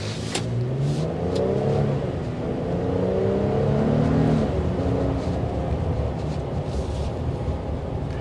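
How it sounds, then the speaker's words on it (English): A 2024 Nissan Frontier Pro-4X pickup's V6 engine pulls hard under acceleration, its rising drone climbing in pitch through gears, loud and close with steady road noise, no talking. "The V6 has good power and pull. It really does push you back."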